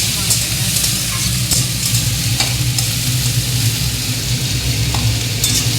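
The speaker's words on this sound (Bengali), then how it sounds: "এবার এই পেঁয়াজগুলো কষা হয়ে গেছে, পেঁয়াজ রসুন কষা হয়ে গেছে" Onion and garlic sauté in a pan for mutton curry, giving a loud, dense, continuous sizzle with faint scraping of a spoon now and then, close up and steady throughout.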